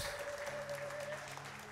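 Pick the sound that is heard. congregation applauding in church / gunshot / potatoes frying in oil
congregation applauding in church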